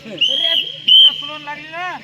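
A whistle sounds in short piercing shrill blasts at a kabaddi match, loud and close, with a voice speaking between and after the blasts.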